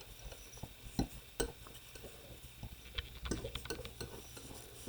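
Paint being stirred and mixed toward a dark blue shade, with soft scraping and light clinks of a tool against a container, a few sharper taps scattered through, quiet and close with no talking.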